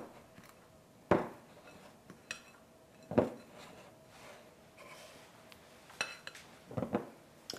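Shredded cheddar cheese is stirred into scone dough in a bowl, giving soft scraping with a few sharp clinks of utensil against dish, spaced out and quiet, with no talk.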